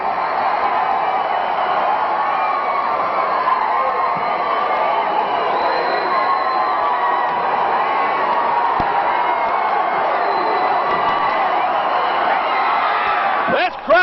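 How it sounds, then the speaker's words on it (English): A 1986 Central States All Star Wrestling crowd roars wildly for heavyweight champion Harley Race, a dense, loud, sustained wall of cheering and yelling that holds steady throughout. "This crowd going wild"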